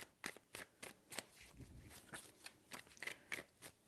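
Tarot cards being shuffled at close range, a run of soft riffling bursts falling in an irregular rhythm, fairly quiet, with no voices.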